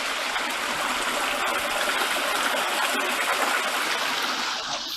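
Chyandour Brook runs close by as a steady, fairly loud splashing rush of water, constant throughout with no speech.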